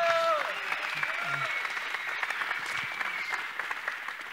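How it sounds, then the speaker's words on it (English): Steady applause fills a church worship service, a congregation clapping in praise for several seconds after a brief tonal sound at the start, moderately loud and continuous. "give God a hand clap of praise"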